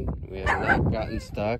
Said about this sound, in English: That's our dog, ignore him.